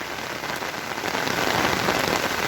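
Steady rain pattering densely on a surface in a village, a continuous hiss that swells slightly louder partway through, with no voices.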